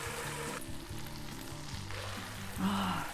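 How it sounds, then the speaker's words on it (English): Kimchi with a splash of its juice cooks under a lid in a pan over medium-low heat, giving a steady, moderately quiet sizzle with a low tonal hum underneath, rising slightly near the end. "We're going to cook kimchi for 10 minutes"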